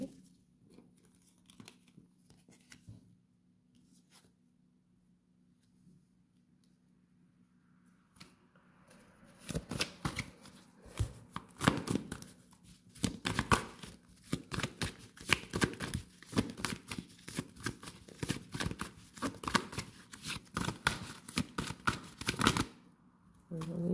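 Gold tarot cards shuffled by hand, a dense run of crisp riffling, flicking and slapping bursts that starts after a quiet opening and continues near and loud for most of the clip, with no talk.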